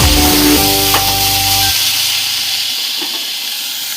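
Kenduli frying dry in a pan with no water, a loud close steady hiss and sizzle that slowly fades, with a brief low droning hum at the start.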